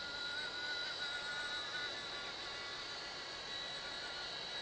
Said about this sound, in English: What a neat little helicopter.